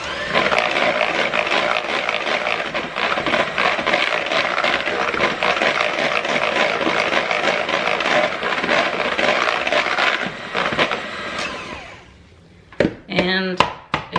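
A spoon scrapes the bottom and edges of a bowl, mixing no-bake lemon cheesecake filling made with condensed milk: steady, close scraping for about twelve seconds, then a few short, sharper knocks after a brief lull.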